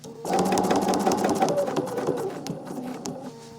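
A sewing machine machine-quilts fabric, stitching in a steady, fast, continuous mechanical whir that runs loud and close from start to finish with no talking.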